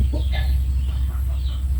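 Chickens cluck softly in short calls over a steady low engine-like hum that runs throughout.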